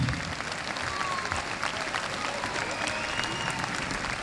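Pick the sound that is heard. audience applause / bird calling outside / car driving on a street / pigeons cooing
audience applause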